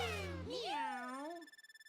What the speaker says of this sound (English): The meow was weird.